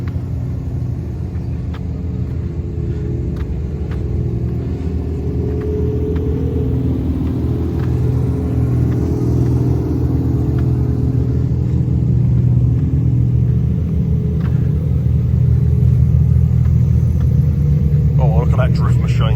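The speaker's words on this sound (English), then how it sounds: "So very cool bunch of cars." Drift cars at a private hire drifting event rumble and rev nearby, a heavy low engine drone with rising throttle blips, mixed with voices talking over the noise.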